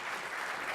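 Brief, steady applause from a conference audience welcoming speaker Kent Shuart to a plenary session, an even wash of clapping that is soft and distant, with no talk.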